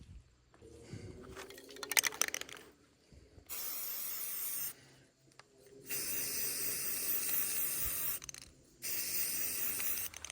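Aerosol spray paint lightly dusting a rifle in bursts, starting with scattered handling clicks and then three long, steady hissing sprays separated by short pauses, close and loud with no talking.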